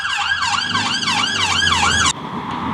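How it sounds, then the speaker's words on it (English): Emergency vehicle sirens wail on a street in Leith, Edinburgh, a loud, close, rapidly rising and falling yelp over traffic rumble, cutting off abruptly near the end. "Those sirens aren't for me."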